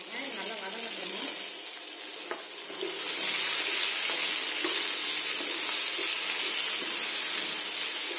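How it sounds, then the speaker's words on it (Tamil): Onion and curry leaves, with fennel, cinnamon and cloves, sauté in hot oil for a vada curry, giving a steady, dense sizzle that swells slightly partway through and runs on without a break. "வெங்காயம் நல்லா வதங்கிடுச்சு."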